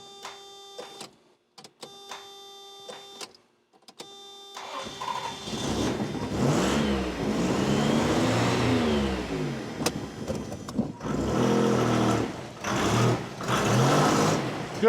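A 1990 Toyota 4Runner engine cranks in short bursts with rhythmic starter whirring, then catches and revs, rising and falling loudly through several surges up close.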